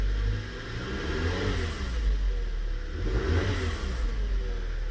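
A 2011 VW car engine revving during diagnosis, rising and falling in two or three surges over a steady idle rumble, close and fairly loud with no speech.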